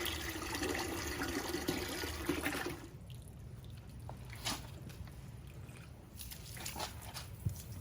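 Water splashing and trickling over live crawfish being cleaned outdoors on a cold, rainy day, a wet sloshing rush that drops off sharply partway through, leaving scattered drips and squishy shifting sounds.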